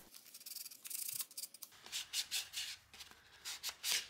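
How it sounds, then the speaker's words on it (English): Sandpaper rubbed by hand along the edges of a wooden Christmas tree cutout, close, soft rhythmic scratchy strokes in short repeated bursts, no talking. "I hand sanded the sides of the trees and slightly smoothed out the sharp edges and corners."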